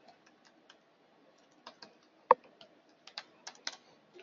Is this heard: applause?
no